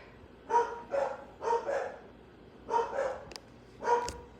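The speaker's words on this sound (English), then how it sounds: "They love to bark when people come in." Indoor dogs at home bark in a series of sharp, close barks as people come into the house, in uneven groups of two and three with short pauses between.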